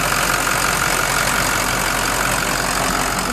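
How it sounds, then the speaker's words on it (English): A 2007 Ford F550 Power Stroke V8 diesel truck engine idles steadily, a continuous low rumble with a rough, knocking texture and no voices. "F550 Power Stroke V8 engine"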